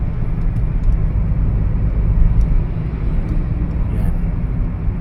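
Large trucks and buses pass on the road in early-morning darkness, heard from inside a moving vehicle as a continuous, loud, low engine rumble with steady road noise.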